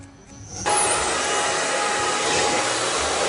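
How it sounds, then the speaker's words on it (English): A hair dryer blow-drying short shag hair switches on after a faint start and then blows with a steady, loud, even whoosh at close range. "a blow dry shouldn't take ages"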